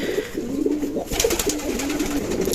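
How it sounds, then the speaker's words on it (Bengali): Pigeons, including a red pair of racing birds kept on a farm, coo repeatedly in soft, rolling calls close by, with some fluttering and rustling noise partway through. "আর এইখানে আমার একটা লাল পেয়ার কবুতর আছে, আপনাদের একটু দেখাই।"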